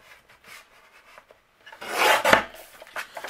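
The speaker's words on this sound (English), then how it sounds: "I'm gonna start by trimming a standard sheet of cardstock." A standard sheet of cardstock being trimmed in half, a short rasping cut that swells loudly near the end after quieter faint scraping and handling rustles.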